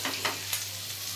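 Bhendi (okra) frying in a pan gives a brief, quiet sizzle with a few soft stirring scrapes.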